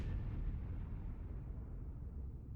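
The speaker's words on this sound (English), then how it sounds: "I'm trying to catch a close-up explosion." Meteor shower explosions strike the lunar biome in the video game ARK, heard as a steady, low, distant rumbling boom that rolls on without a break and stays fairly faint throughout.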